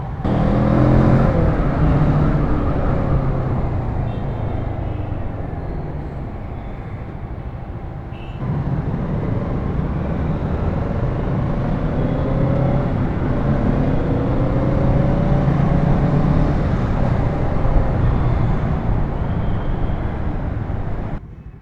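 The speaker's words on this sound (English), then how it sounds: "There's a lot of traffic." Riding a Kawasaki Z650 motorcycle through heavy road traffic, with a steady broadband roar of engines and tyres filling the whole stretch and a brief dip in loudness partway through.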